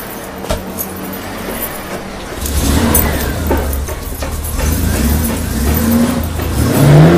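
A car engine nearby picks up from a quiet idle into a loud, steady drone, its pitch climbing toward the end as the vehicle accelerates, with no speech over it.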